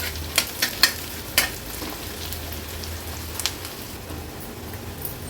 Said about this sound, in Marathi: कांदा पण आपण व्यवस्थित शिजवून घ्यायचा आहे